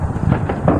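Fourth of July fireworks in Dayton, Ohio burst as a few muffled, distant booms in quick succession with no voices.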